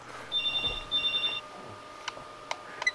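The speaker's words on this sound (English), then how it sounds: "There's a phone, I'll see you after." Telephone bell ringing in two quick bursts of shrill trilling, fairly close and clear, followed by a few faint clicks and knocks with no talk.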